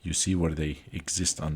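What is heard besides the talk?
No everyday noises stand out.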